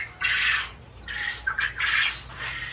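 Several harsh, raspy squawks from farmed quail come close together at close range, with short pauses between them.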